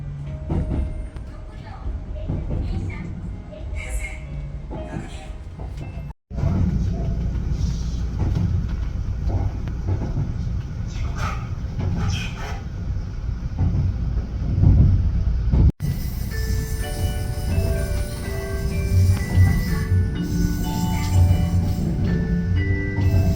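The Shimakaze sightseeing train in Japan pulls into its final station, Kashikojima, with a low rolling rumble under onboard announcements and chimes, then settles into cabin ambience.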